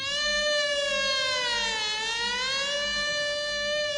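A fire engine siren in a French children's audio story wails steadily and loudly, a continuous tone that dips and rises once in pitch, with no voices over it.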